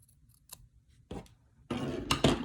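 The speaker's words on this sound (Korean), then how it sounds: "여기 뒤에 부분은 어차피 안 보이니까 그냥 실을 짧게 잘라주세요" Scissors snip loose thread at the back of an embroidered daisy tote bag in a few close, crisp cuts, the last ones louder and longer, with no talk.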